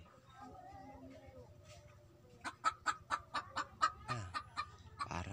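A hen clucks in a rapid series of loud, close calls before laying an egg, building into insistent bursts after a quieter stretch of background noise.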